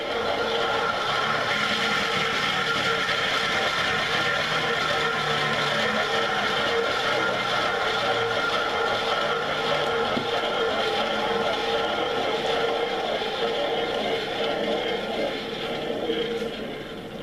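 A record turntable spins steadily for an acrylic paint pour, giving a continuous close whirring hum that holds even in level throughout before easing slightly at the end.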